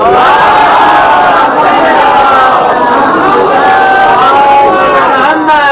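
A large majlis audience reciting salawat together, loud layered chanting voices in unison with a steady rising and falling melody throughout.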